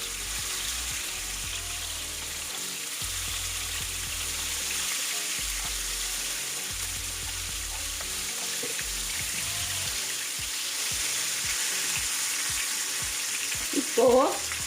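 Fish frying on a hot tawa, a loud continuous sizzle and crackle that holds steady throughout, with some low thumps and a brief clatter near the end.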